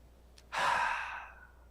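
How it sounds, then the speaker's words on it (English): A single deep breath taken during a relaxation exercise, one long soft exhale like a sigh that swells quickly and fades slowly, close and alone with no talking. "Relax your mind, relax your body, and then natural breathing again, and again, deep breathing again."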